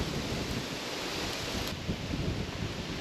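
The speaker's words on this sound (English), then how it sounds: "this wind situation is not going to make it easy" Wind blowing at a secluded creek during a crayfish catch, a loud, continuous roaring rush that buffets the microphone, with no voices over it.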